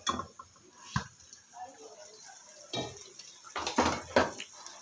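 Fried mutton koftas added to a pan of masala, with a few close clinks and knocks of spoon against cookware amid soft kitchen shuffling and faint bubbling.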